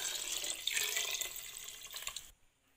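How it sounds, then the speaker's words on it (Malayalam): Second coconut milk pours into a payasam pot already holding jaggery syrup, a steady liquid splash and trickle that runs about two seconds and then stops abruptly, close and fairly quiet, with no talking. "ഇതിലേക്ക് നമുക്ക് രണ്ടാം പാൽ ഒഴിക്കാം."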